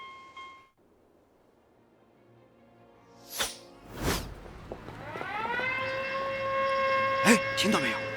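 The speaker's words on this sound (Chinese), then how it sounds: "警报拉响" An animated alarm siren winds up after two whooshing swishes, its rising tonal wail holding steady and loud, ending in a couple of sharp accents.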